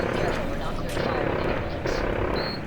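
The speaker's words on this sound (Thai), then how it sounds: "เฮลิคอปเตอร์" Helicopter flying over a combat zone in Call of Duty Modern Warfare 3, a loud steady rotor roar with gunfire cracks and someone talking over it throughout.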